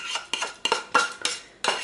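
Spoon scraping fried, diced onion into minced meat in a bowl for homemade meat patties, giving six evenly spaced clinks and scrapes of metal on dish, close and clear with no talking.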